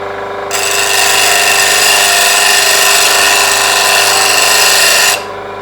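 A plane blade is ground on a spinning grinding wheel, giving a steady, loud, continuous whirring grind that starts abruptly, holds evenly for several seconds, then cuts off.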